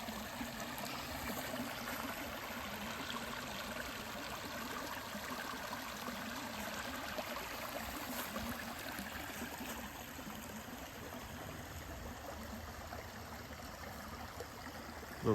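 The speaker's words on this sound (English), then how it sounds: "Little waterfalls over all the limestone" Steady rushing and splashing of water spilling over small limestone drops on a creek, a continuous close babble with no voices.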